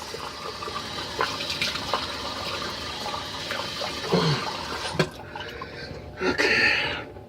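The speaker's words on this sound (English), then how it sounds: "Now let's rinse the face." Tap water running steadily while the face is rinsed after a shave, with splashes and gushes close by and a brief louder burst of water near the end.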